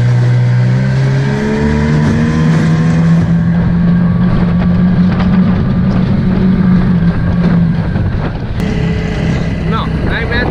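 A small motorboat engine runs flat out at top speed, giving a steady, droning whine that holds its pitch throughout, mixed with rushing wind and water noise close to the microphone.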